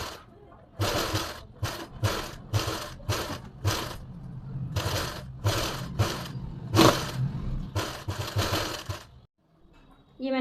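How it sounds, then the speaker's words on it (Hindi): A sewing machine stitches a fabric strip onto a pleated suit in a series of short whirring runs, each a second or so, with brief pauses between, close and steady, ending in near silence. "इस तरह से रखें और एक पैर के गैप से सिलाई लगाएं"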